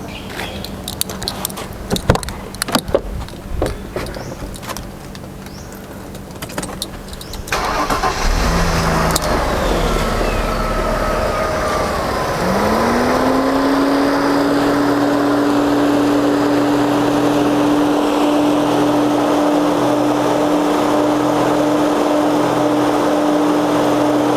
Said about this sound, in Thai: สตาร์ทที่เดียวติดแน่นอนนะครับรถคันนี้